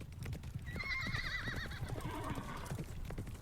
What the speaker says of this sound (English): his horse is getting closer